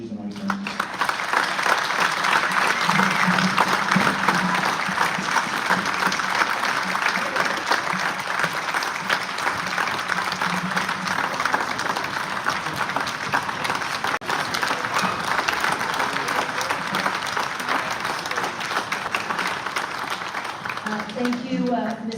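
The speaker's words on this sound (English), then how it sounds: "if we could give the governor of New Mexico a round of applause" A large audience at a town hall meeting applauds the governor of New Mexico with long, steady, dense clapping that continues for over twenty seconds.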